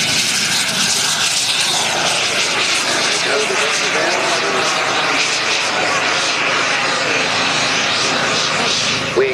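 A model aircraft performs an aerobatic display at the Weston Park model air show, its engine roaring loud and steady throughout with a continuous buzzing drone, while a commentator talks over it.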